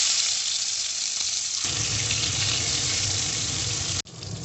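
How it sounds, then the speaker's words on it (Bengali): Katla fish pieces fry in hot oil in a kadai, a loud continuous sizzle that swells as more pieces go in, broken by a brief drop near the end, with no talk. "এখন মাছগুলো আমি এক একে দিয়ে ভেজে নেব।"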